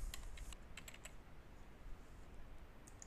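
Quick, close clicking on a computer keyboard while an online store admin form is being filled out, a rapid run of keystrokes at moderate volume.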